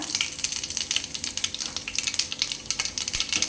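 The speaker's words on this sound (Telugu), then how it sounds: "ఫస్ట్ ఆవాలు వేసుకుందాం, తర్వాత జీలకర్ర" Mustard seeds and cumin sizzle in hot oil, close and crackling, with rapid irregular pops and spits flickering over a soft steady hiss.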